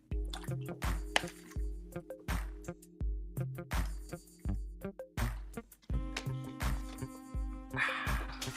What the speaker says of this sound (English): I need a drink of this here water.